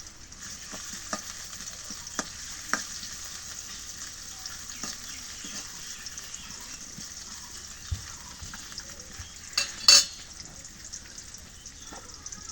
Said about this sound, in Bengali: এই যে কাটা শেষ এখন কড়াইয়ের মধ্যে পেঁয়াজ দিলাম